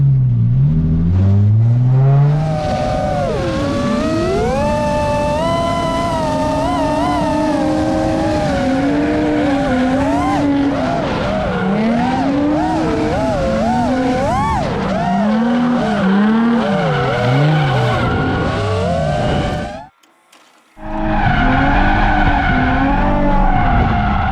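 At Ebisu Circuit's North Course, a drifting car squeals its tires continuously through a handbrake-initiated corner, with the engine revving and wavering beneath. A long loud screech is cut by a brief silence before it resumes.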